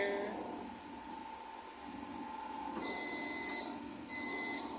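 A hydraulic hose crimping press gives a steady high electronic beep that holds for about a second over low machine hum, then a shorter beep follows, moderately loud and close.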